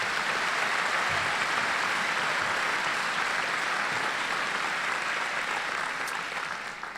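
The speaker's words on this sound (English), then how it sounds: "we should give them a round of applause to recognize that extra achievement" Sustained applause from a commencement audience at a medical college graduation, a dense, steady wash of clapping lasting throughout and tapering slightly at the end, with no voices over it.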